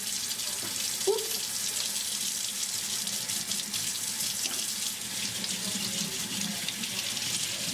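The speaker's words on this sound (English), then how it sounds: "You just want to rinse it really clean and then squeeze them out before you lay them out." Makeup brushes rinsed under a running tap, a steady close stream of water splashing into a sink with small handling sounds.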